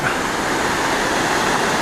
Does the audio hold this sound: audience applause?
no